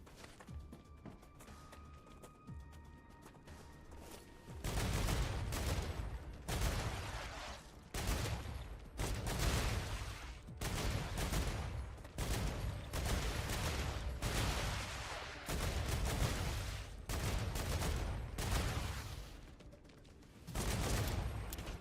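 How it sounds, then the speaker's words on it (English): A video game machine gun in Star Rupture fires sustained, loud rapid bursts, broken by short pauses, and it dominates over a quieter game background. "The other benefit to the machine gun is that when it hits something, it really wrecks it."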